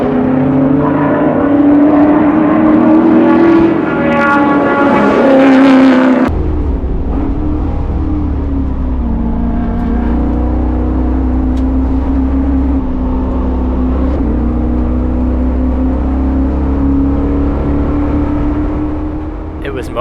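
Chevrolet Caprice with a T56 manual gearbox on a road course at track day, engine roaring hard under full throttle with a gear change midway, loud and close from inside the car.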